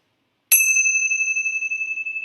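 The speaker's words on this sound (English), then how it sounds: "let's close our time together with the ringing of the bell." A single bell struck once at the close of a calm meditation session rings out clearly, its pure tone sustaining and slowly decaying for a couple of seconds with no voices over it.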